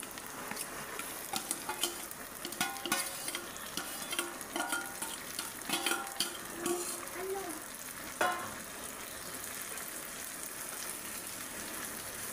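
Chopped tomatoes tipped into fried onions in a pan for tomato egg curry, with a loud burst of sizzling and busy stirring scrapes and clinks, then a steadier frying hiss.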